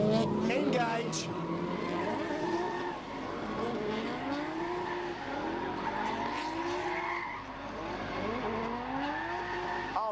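Cars drifting at a quick street day at Kooralbyn Valley, with sustained tire squeal and skidding over roaring engines, pitch sweeping up and down as the cars slide around, loud and continuous throughout.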